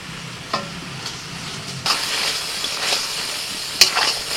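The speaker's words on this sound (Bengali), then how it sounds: "এবার ভাজা ফুলকপি দিয়ে দিচ্ছি।" Fried cauliflower goes into a pan of cooked spice paste with cashews, raisins and sugar and is stirred, a few soft scrapes giving way to a louder sizzle with sharp spoon clinks close by.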